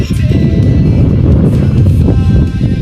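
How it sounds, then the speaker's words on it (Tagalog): Strong wind at an old pier in Mindoro buffets the microphone with a constant deep rumbling roar, loud and unbroken throughout. "Medyo mahangin, pero okay lang yan."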